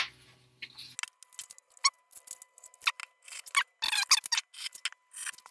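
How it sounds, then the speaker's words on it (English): Scissors cut the corners out of a sheet of paper in a quick series of sharp, close snips and crisp paper rustles, irregular in rhythm, with no one talking. "cut out all my corners"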